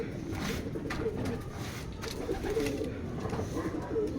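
Pigeons coo softly at a training site in Tiaong, Quezon, a low rolling call repeating over steady outdoor background noise.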